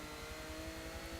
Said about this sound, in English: got a nice high revving engine in it as well